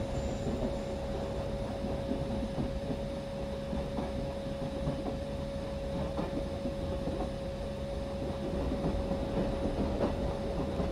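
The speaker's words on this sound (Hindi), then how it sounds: "दूसरी का ट्रैक चेंज हो रहा है इसलिए वो अपना स्पीड इंक्रीज नहीं कर पा रही।" The Karnataka Express rumbles steadily along the track, slowed while crossing a track change, with a constant loud roll, faint wheel clatter and a steady tonal hum heard from on board.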